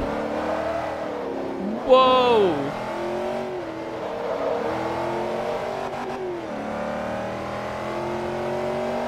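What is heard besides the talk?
race car engine revving in the video game Forza Motorsport 3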